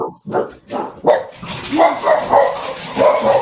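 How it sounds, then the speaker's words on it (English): A dog barks in the background during a conversation, several loud yapping barks in quick succession mixed with voices nearby. "I love hearing happy dogs in the background."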